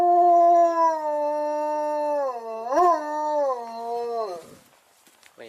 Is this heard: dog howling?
yes